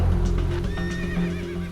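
A horse neighs close by in a rural horse-country setting, a loud drawn-out whinny with wavering high tones, with a hoof clip-clop mixed in underneath.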